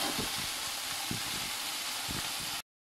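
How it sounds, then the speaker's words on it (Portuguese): Medallions fry in a hot pan, giving a steady faint hiss and crackle of sizzling fat with a few soft low bumps, alone without talk. "E aqui eu tô fritando"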